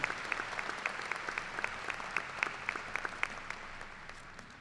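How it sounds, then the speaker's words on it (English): Steady applause from a commencement audience honoring award-winning faculty, many hands clapping evenly across the whole stretch at a moderate, slightly distant level. "Please give a round of applause to all these award-winning faculty"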